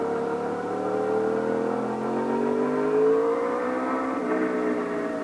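A motorcycle's cross-plane crank engine revs with a rising then easing whine, the pitch sliding as the throttle backs off, loud and close without any talk.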